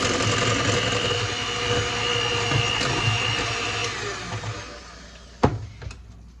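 Electric mixer whirring through coconut cookie dough, a steady close motor drone that winds down near the end, followed by a sharp clack.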